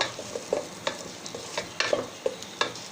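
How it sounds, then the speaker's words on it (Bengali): Ginger garlic paste being stirred into fried onions for chicken biryani, a soft sizzle under a regular run of spoon scrapes and taps against the pan, close by and without any talking. "আদা রসুন বাটা দিয়ে আমি ভালো করে নেড়ে নেব"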